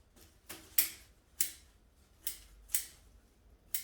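Five crisp scissor snips spaced about half a second apart cut back the branches of a young bonsai grown from an air-layer, each short metallic clip standing alone against quiet.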